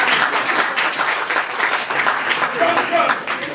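A group applauds steadily, a dense patter of many hands clapping at close range for a few seconds, with a voice talking over the clapping.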